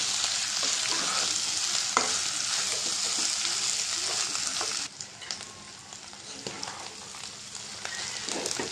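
Beef sizzles in a pan with fried onion and panch phoron spices. A loud, dense frying hiss fills the first half, then softens, with occasional stirring scrapes and clinks.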